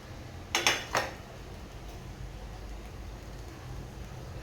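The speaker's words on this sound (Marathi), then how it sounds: "कांद्याची पात आणि काळी मिरी हे सगळं एकदा परत मिक्स करून घ्यायचं आहे" Spring onion and black pepper stirred into egg fried rice, with a few quick metallic clinks of a spoon against the pan, then a quiet stretch of soft stirring.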